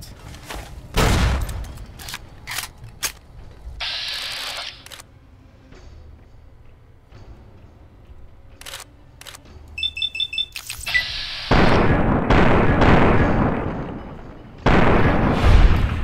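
Bursts of gunfire in Fallout New Vegas, sharp loud reports with rapid clusters and a longer heavy barrage toward the end, broken by quieter stretches, including a Service Rifle Mark II.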